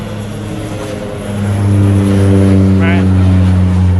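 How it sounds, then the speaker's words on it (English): A propeller airplane climbing out after takeoff from Ogle Airport in Guyana, its steady droning engine tone swelling louder as it passes overhead, with someone talking over it. "It's another plane coming off of the Ogle Airport."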